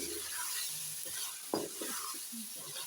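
Green peas are stirred into fried minced meat for matar keema, a soft, steady sizzle under scraping spoon strokes and one sharper clack, quiet and close with no speech.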